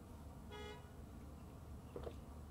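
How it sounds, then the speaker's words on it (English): A car horn honks outside, a short faint toot that stands out briefly over a steady low background rumble. "Who's honking?"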